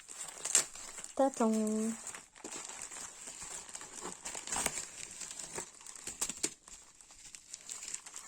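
Crinkly plastic packaging for a diamond-painting craft kit is opened at close range, with soft crumpling and tearing rustles running through the clip under someone speaking French.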